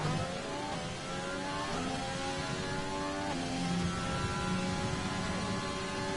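An F1 car engine screaming at high revs in F1 2020, a steady loud whine rising in pitch through several gear shifts as overtake power is deployed.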